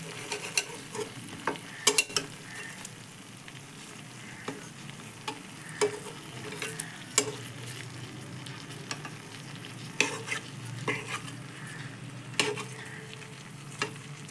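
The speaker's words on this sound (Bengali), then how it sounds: "মাছগুলো আস্তে আস্তে ভাজা হোক এর মধ্যে, মশলাটার মধ্যে" Pabda fish fries in a spice paste over low heat, with a steady soft sizzle and a spoon stirring and scraping the pan in irregular clinks throughout.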